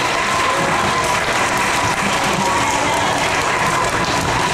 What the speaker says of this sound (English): Stetraville and Ms. Roberts, another round of applause.